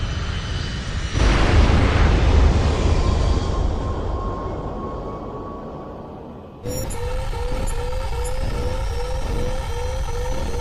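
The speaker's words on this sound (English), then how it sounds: "That explosion was no accident." An aircraft explodes in the combat flight video game H.A.W.X. 2. A loud broadband blast erupts and rumbles away, followed by steady jet-engine roar and a repeating electronic warning tone.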